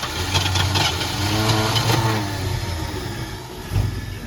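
A 1973 Ford Mustang Fastback engine, long left rotting in a yard and now flooded with fuel, cranks and catches in rough, uneven bursts, a close, steady low rumble that swells and sags for several seconds.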